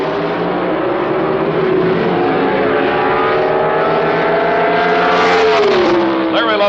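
Pro Stock drag racing cars pull out of the burnout area in the final pair of a second-round elimination, their engines holding a loud, steady drone whose pitch rises near the end as revs climb, close and continuous.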